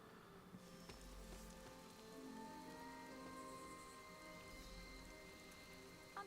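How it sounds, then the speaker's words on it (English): Steady rain pours in a scene from the video game Marvel's Midnight Suns, a soft continuous patter and hiss with faint tonal ambience underneath, low in level and without speech. "Why is it always raining?"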